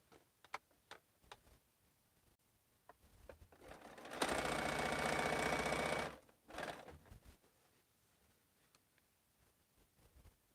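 A sewing machine runs in one steady burst of about two seconds while stitching quilt seams, then a shorter run follows; scattered light ticks and taps come before and after. The sound is close and moderately loud, with no talking.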